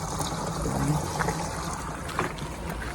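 Water poured from a can into a pesticide sprayer in a marigold field, a soft continuous trickle and splash with a few brief sharper knocks, fairly quiet and without speech.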